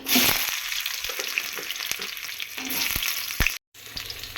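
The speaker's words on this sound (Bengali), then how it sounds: "এতে আমি দিয়ে দিচ্ছি 5 ফোড়ন আর শুকনো লঙ্কা। এবারে দিয়ে দিচ্ছি সজনে ডাঁটা" Drumstick vegetable pieces going into hot oil with five-spice and dried chili, a loud steady sizzle with some stirring scrapes close up.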